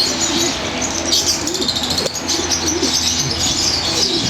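Several pigeons coo softly and continuously nearby, with faint chirps and a brief flutter mixed in.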